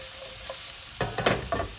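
Shiitake mushrooms stir-fried in a pan: a soft sizzle under a few quick scraping and stirring strokes, close, in short bursts near the end.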